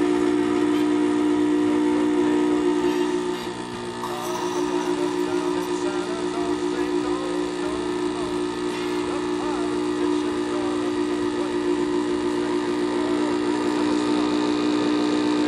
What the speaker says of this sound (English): So we'll pull about a shot's worth of espresso in each cup.